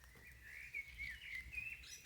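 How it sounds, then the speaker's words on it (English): Birds chirping outdoors in the rain, faint, high, repeated tweets over a soft patter and low background rumble. "the birds are chirping"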